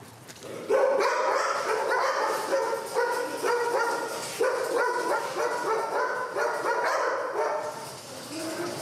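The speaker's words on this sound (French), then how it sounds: "On est dans le chenil de la police technique et scientifique qui est composé de 7 chiens, 3 bergers allemands et 4 bergers belges malinois" Police German shepherds and Belgian Malinois bark in a kennel of a forensic police unit, several dogs barking repeatedly and overlapping at moderate distance, with yips and whimpers mixed in.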